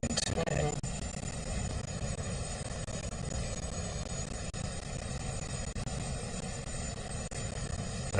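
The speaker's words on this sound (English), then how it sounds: "I can't imagine the helicopter's rotors with the wind whipping up are going to feel very good coming up here." Steady helicopter rotor thump of Marine One at a presidential inauguration, a continuous broadband roar with wind noise and a crowd voice talking over it.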